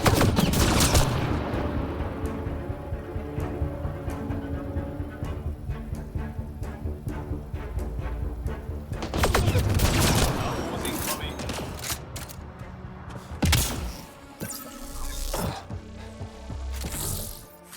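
Gunfire in the Mass Effect Andromeda video game during a fight with outlaws: bursts of automatic shots and sharp impacts over a low droning game soundtrack, with a few louder isolated blasts later on.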